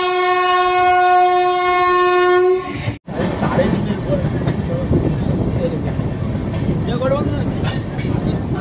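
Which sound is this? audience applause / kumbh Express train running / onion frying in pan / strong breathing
kumbh Express train running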